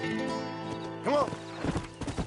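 A stallion in Red Dead Redemption whinnies loudly up close in a rising and falling neigh, then hooves clip-clop in a few quick strikes over a steady outdoor backdrop.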